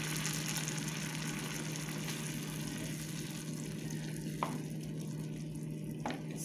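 Spinach puree blended with a little water being stirred into wilted onion and rice in a pan, giving a steady soft sizzle and wet stirring noise with a couple of brief clinks, no voices.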